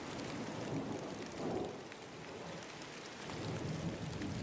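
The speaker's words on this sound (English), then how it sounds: "I think this is just rain noises" Rain falls steadily and softly as a background ambience, with faint low rumbles that swell and fade like distant thunder, and no voices.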